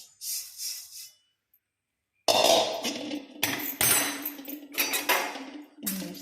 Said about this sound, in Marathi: आता ही मेथी मी गव्हामध्ये ओतून देणार आहे